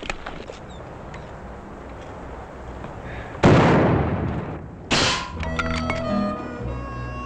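Two loud, sharp rifle shots crack close by in an Old West setting, each followed by a short echoing tail, with faint ringing and quiet movement between and after them.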